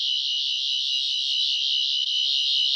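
Fourteenth Doctor Sonic Screwdriver toy in its second scanning mode, a steady high electronic warble pulsing rapidly, continuous and close for the whole stretch with no voices.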